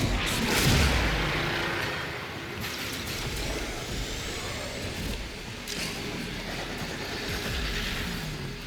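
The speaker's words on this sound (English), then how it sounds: "Boom, they all explode." Explosions and heavy gunfire from the Warframe video game boom in a dense, loud barrage that starts strong and then settles into a continuous rumbling roar of blasts without pause.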